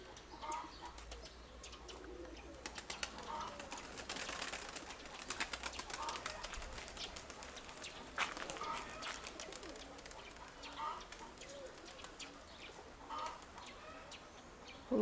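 Domestic pigeons in a loft on a hot day make soft, low cooing with occasional wing flaps, faint and steady against a quiet background, no talking.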